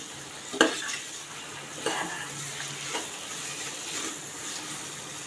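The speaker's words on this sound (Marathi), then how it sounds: "वाल पण आपल्याला एक मिनिट चांगले मसाल्यामध्ये परतून घ्यायचे" Val beans being sautéed in masala for a val khichdi, with a soft background sizzle and a few scraping stirs of a spoon against the pot, scattered and moderately faint.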